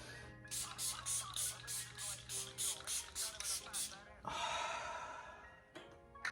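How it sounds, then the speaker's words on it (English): Rapid series of short, breathy spray bursts, about a dozen in a row, followed by one longer hiss and a final quick puff. "after I spray my face"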